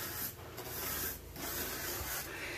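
A mini brush scrubs shower grout lines treated with citric acid, giving a close, steady rasping rub in repeated back-and-forth strokes with brief pauses between passes.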